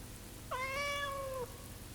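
A single clear cat meow, drawn out for about a second, close and alone over a quiet background hum.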